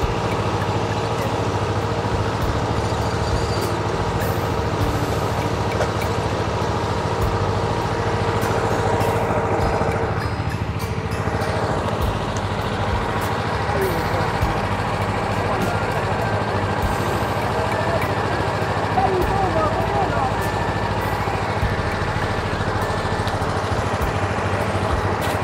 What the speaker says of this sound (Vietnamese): Giờ bắt đầu cắm mũi khoan đầu tiên các bạn ạ